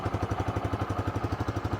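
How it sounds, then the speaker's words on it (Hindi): A 125cc motorcycle engine idling at close range, a steady rapid thumping pulse with even, regular beats and no talk. "आइडियल कंडीशन पर इस बाइक के इंजन का साउंड,"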